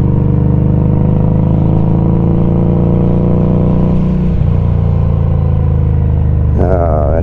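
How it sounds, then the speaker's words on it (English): Motorcycle engine running steadily up close from a rider's perspective, the muffler's hard-deceleration backfire showing as a shift in the drone midway and a burst of crackling pops near the end. "Bit of backfire in there with this muffler"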